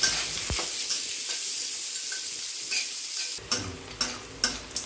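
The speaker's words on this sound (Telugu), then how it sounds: "పచ్చిమిర్చి ఆనియన్స్ కూడా వేసుకుని గోల్డెన్ బ్రౌన్ వచ్చే వరకు ఫ్రై చేసుకోవాలి" Green chillies and onions fry in hot oil for paneer fried rice, giving a continuous sizzle. In the second half, sharp spatula scrapes and knocks against the pan come at a regular pace.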